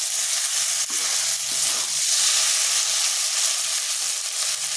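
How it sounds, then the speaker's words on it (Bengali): Sabudana khichuri is stirred with pepper powder and a spoonful of sugar in a hot pan, giving a loud, even sizzle with soft scraping stirs throughout. "ভালোভাবে এগুলো মিশিয়ে নিচ্ছি"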